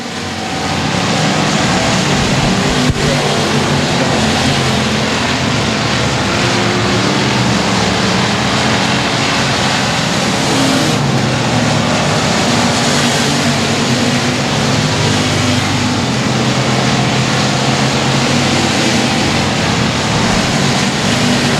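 Race cars lapping at Sabine Speedway, a dense continuous engine roar from several cars that stays loud throughout with slight swells as they pass.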